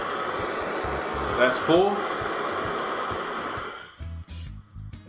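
A Blink OG2 butane torch is turned up to a full flame, giving a steady close roaring hiss that dominates most of the moment before dropping away, with brief talk over it and after it.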